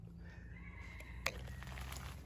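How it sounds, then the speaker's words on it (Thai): A wild junglefowl crows nearby on a forested mountaintop campsite, one sharp call cutting through steady outdoor ambience and low background hum. "ไก่ป่าเขาอยู่ไม่ไกลจากตรงนี้นะพี่นะ"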